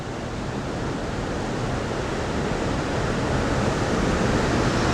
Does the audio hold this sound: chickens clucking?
no